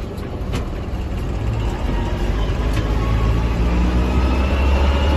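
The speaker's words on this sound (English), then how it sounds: "shifts through all the gears really nice does all the range shifting nicely" A 2000 JCB Fastrac 3185 tractor drives steadily with a loud, continuous engine and drivetrain rumble that builds slightly as it runs through its gears, with no voices heard.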